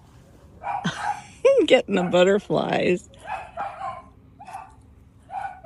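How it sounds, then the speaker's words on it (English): A small dachshund barks and yips in the neighbouring yard, a quick run of sharp, high barks close together, while a person speaks at the start and again near the end. "the neighbors behind us let their little dog out"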